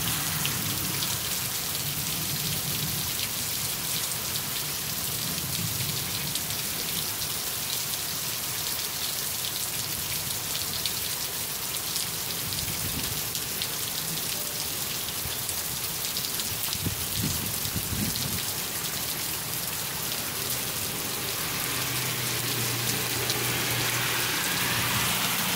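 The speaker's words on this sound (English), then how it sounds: "Excessive rain." Heavy rain pours during a dark, windy storm. A loud, constant hiss of downpour drums on surfaces for the whole stretch, with faint low rumbles underneath and no voices.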